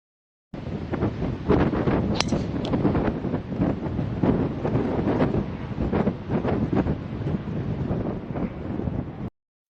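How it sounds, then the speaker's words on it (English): Strong head crosswind on a golf course buffets the microphone with loud, continuous gusty rumble and roaring noise, close and steady throughout. "today we're kind of into a pretty big head crosswind"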